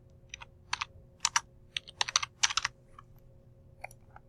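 Computer keyboard typing while entering labels in drafting software, a run of quick, close keystrokes in bursts with brief pauses, alone and fairly quiet.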